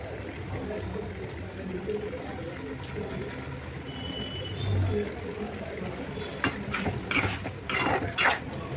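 Water pours in a soft, steady trickle against a low background hum, with a few brief splashy bursts near the end.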